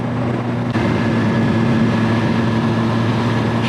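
A Suzuki GSX-R 1000R sport bike's engine drones steadily while riding on the road, a loud constant hum mixed with wind rush, with no one talking.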